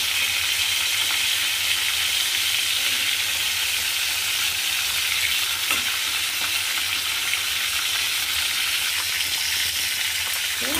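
Pointed gourd (potol) pieces frying in oil in a pan, a steady close sizzle with crackling and light stirring that runs unbroken throughout.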